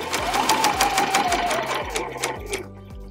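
A sewing machine stitching a tiny dollhouse mini quilt seam at a 1/4 inch allowance, loud and close, its needle thumping in a fast steady rhythm until it slows and stops near the end.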